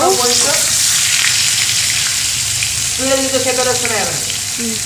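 Pumpkin pieces frying in a pan give a steady, loud, close sizzle that runs throughout, with a voice speaking briefly at the start and again near the end.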